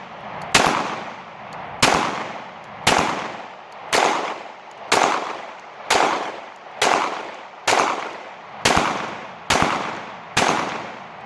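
Shots from a CZ 75 SP-01 pistol aimed at a distant steel plate, eleven evenly spaced loud cracks, each followed by a short ringing tail of echo.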